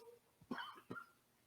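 Two short, hoarse coughs from a priest with a scratchy throat during a homily, in quick succession, close and moderately loud, with a quiet room around them.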